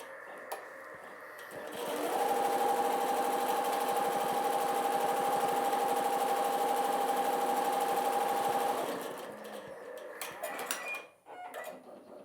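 A Halo X embroidery machine runs a placement stitch for a mylar insertion, a fast, even mechanical whirring that starts up, holds steady for about seven seconds, then winds down into faint clicks and handling noises.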